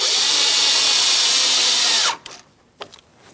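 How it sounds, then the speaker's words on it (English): A power tool drives a 7mm mounting bolt into a 2015-2025 Ford Transit 250 door, whirring loudly and steadily for about two seconds before stopping, followed by a couple of faint clicks. "Let's install the 7mm mounting bolt over in the far corner here. Once again, just go ahead and start it in and snug it up."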